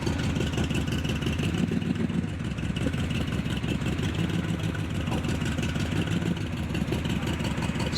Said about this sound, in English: We got another Corvette coming in.